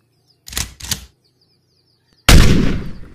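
Two quick sharp clicks or pops from a toy cowboy pistol, followed after a pause by a louder, longer crackling burst; close and alone.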